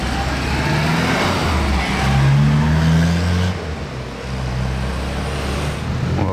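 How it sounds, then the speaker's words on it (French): Porsche 992 Turbo S sports car accelerating on a street, a loud engine roar with rising pitch that swells, then drops as the car pulls away, with traffic noise behind it. "C'est un missile cette 992 Turbo S"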